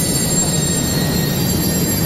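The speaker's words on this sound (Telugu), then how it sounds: "మనం ఎక్కాల్సిన ట్రైన్ వచ్చేసింది." A train pulls into a station in South Korea, a steady, broad rumble of rolling wheels and railcar noise holding at an even level throughout, with no voices.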